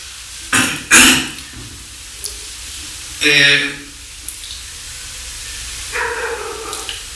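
A dog barks several times at irregular intervals, a quick pair of barks followed by single barks, fairly close, over a quiet room background.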